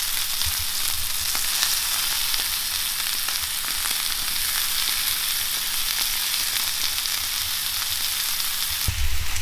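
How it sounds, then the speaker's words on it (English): Venison loin sears in a hot pan with a loud, continuous sizzle and crackle, close up and steady, ending in a brief clatter as the pan is moved. "The idea is to brown the meat on all sides"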